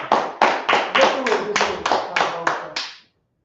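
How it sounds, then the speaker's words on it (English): About ten sharp, evenly spaced claps from a gathering at a live religious class, each clap loud and distinct in a steady rhythm before stopping abruptly. "Clap it up."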